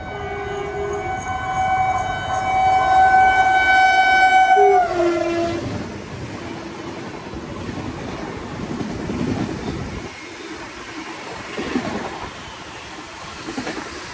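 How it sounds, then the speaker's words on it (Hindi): The Ahmedabad-Asansol superfast express train sounds a long, loud horn while approaching, then rushes past the station close by with a sustained rumble and rattling wagons that gradually fade. "और ये निकली हमारी दूसरी train Ahmedabad Asansol super fast express."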